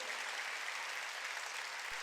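A church congregation at a Wednesday worship service applauds in a continuous, even patter of many hands, soft and somewhat distant, sustained without pause.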